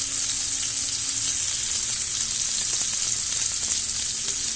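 Rib-eye steak frying in a cast iron pan with garlic and butter, a loud, steady, close sizzle that runs the whole time with a faint low hum beneath it.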